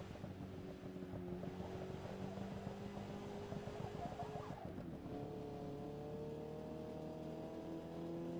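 A Miata on a night lap of the Nurburgring, its engine humming steadily at sustained revs from inside the car, pitch shifting with a brief dip mid-way, fairly faint overall.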